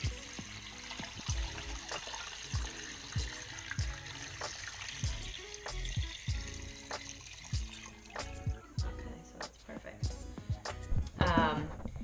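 Liquid pours into an 8-quart pot over turkey bones for bone broth, a steady splashing trickle with recurring low thumps, heard up close; a voice seems to murmur faintly underneath.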